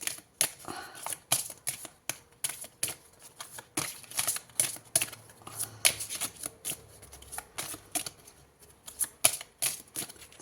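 Tarot cards shuffled by hand in rapid riffling bursts with short pauses, close and crisp, with a few snaps as cards are drawn from the deck and no talking.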